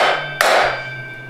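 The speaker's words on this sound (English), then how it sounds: "in this case, the old bushing to hammer in the new bushing a little bit." A single sharp metallic hammer strike drives a new bushing into a 4L60E/700R4 transmission case, with the old bushing used as the driver; one close, loud clank with a brief ringing tail.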